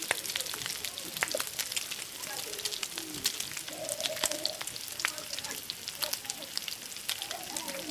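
Dough frying in hot oil gives a steady, crackling sizzle with dense popping spatters, close and continuous for the whole stretch, with faint voices murmuring underneath.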